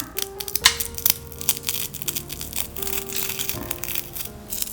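Crisp crunching and crackling as crispy deep-fried crab sticks are squeezed close up, irregular snaps and crinkles over a few seconds, no speech.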